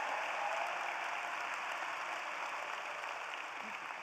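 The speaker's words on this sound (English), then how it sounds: "let's give another round of applause for our volunteer dads" Applause at a spring engineering college commencement honouring volunteer dads, heard as a soft, distant, even hiss of many hands clapping in a large venue, steady from start to finish.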